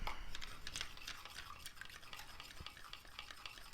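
A spoon stirs salt into water in a bowl while dumpling dough is being prepared, giving steady, close scraping and swishing that runs continuously with no talking.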